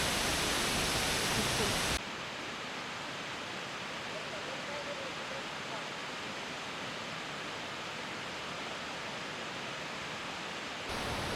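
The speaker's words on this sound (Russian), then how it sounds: "Ну, вот я и добрался до водопадика." A small waterfall produces a steady, dense rushing roar throughout, louder and brighter in the opening seconds and again at the very end.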